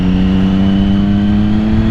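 The engine of a 2006 Triumph Daytona 675 or 2007 Yamaha YZF R6 sport motorcycle revs during rev matching, a loud, close, steady engine drone with a strong hum and no speech.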